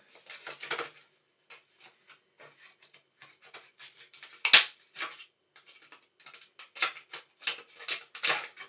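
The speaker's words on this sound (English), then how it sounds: "I have to cut it open." Scissors cut open plastic packaging at a fly-tying bench with a series of sharp, irregular snips and crinkles, close and fairly quiet. Brief gaps separate the cuts, and one louder snap stands out midway.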